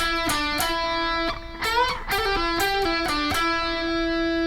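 A quick run of bright, sustained electric guitar notes from a guitar solo, some bent and sliding, played steadily for several seconds with no talking.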